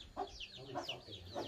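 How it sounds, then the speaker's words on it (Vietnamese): Chickens and young chicks cluck and peep under a coop in a village garden, soft repeated calls in a quick, uneven rhythm, fairly close but quiet. "ở khu vực dưới này là có những con gà con"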